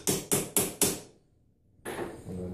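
Four sharp metal hammer strikes on a ball joint press tool during a control arm bushing replacement on a third-generation Camaro, evenly spaced and close, then a pause and a duller clunk with continuing rattle.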